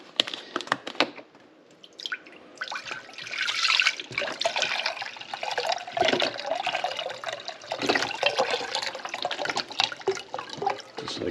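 Vegetable broth pours into a cooking pot with a steady, splashing rush of liquid that starts thinly and swells to a fuller, sustained gush close by.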